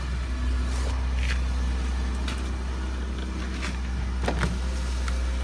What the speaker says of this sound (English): Windows are automatic. They both work.